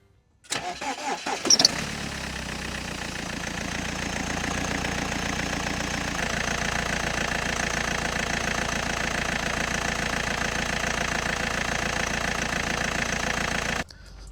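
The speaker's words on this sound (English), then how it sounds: "As we can see, the engine starts, which is a good sign." A BMW E87's engine cranks briefly and catches, then settles into a steady, even idle that runs unbroken for over ten seconds before cutting off.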